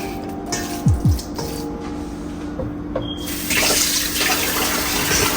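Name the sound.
water running from a tap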